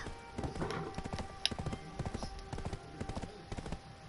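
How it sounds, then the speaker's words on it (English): Horse hooves clip-clop in quick, uneven rhythm as a mount gallops in Black Desert, close and fairly faint, with occasional talk mixed in. "I was chasing him on horse"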